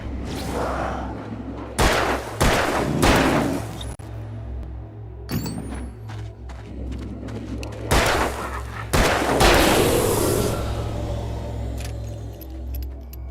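Gunfire in the Alan Wake video game: several loud, sharp shots, some in quick pairs, crack out over a low ambient hum, each followed by brief clattering.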